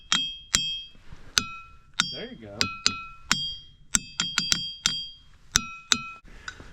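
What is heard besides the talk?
ringing rocks struck at Ringing Rocks Park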